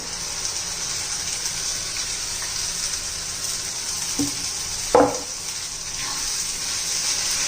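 Tomato puree frying in a pan for a spicy pea, potato and brinjal curry, with curry leaves already in, gives a steady close sizzle, a soft splash and then a sharper clatter near the middle, with no voices.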